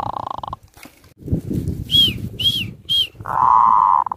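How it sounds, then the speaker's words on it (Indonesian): A zebra dove (perkutut) sings three clear, close cooing notes in a quick series, followed by a longer sustained tone, with a little rustling and low background noise in between. "Ih, mantap, gagah banget ini burungnya, guys."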